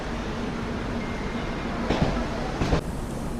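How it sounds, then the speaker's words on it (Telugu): The Sabari SF Express passenger train pulling into platform 2 at Ernakulam Town station: a steady, loud rolling rumble with a low hum and a couple of metallic clanks near the end. "ఎర్నాకుళం టౌన్కి మన ట్రైన్ వచ్చేసి ప్లాట్ఫామ్ 2కి అయితే వచ్చింది"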